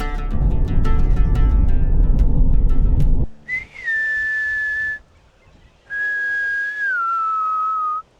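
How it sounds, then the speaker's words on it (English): Loud noisy rumble that cuts off, then two long sliding whistles from a person calling fish, separated by a brief silence, clear and close, in regional Victoria, Australia. "every once in a while I've got a whistle I do, and if you look, they'll come up"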